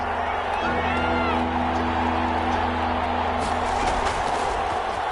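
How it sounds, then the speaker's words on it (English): In a video game American football match, a stadium crowd roars and cheers in a continuous, dense wash ahead of a big third down, with a few whoops rising above it. "the crowd getting into it as we come up on a big third down"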